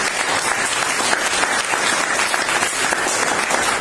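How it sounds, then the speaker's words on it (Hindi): A crowd at a business opportunity meeting claps loudly and steadily, with continuous dense applause filling the room from start to finish. "जोरदार तालियां।"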